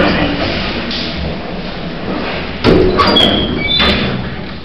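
Hospital lift doors closing with a sliding rumble and a firm thud mid-clip, followed by faint squeaks and clunks over steady machine hum.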